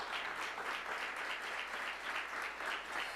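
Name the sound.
congregation applause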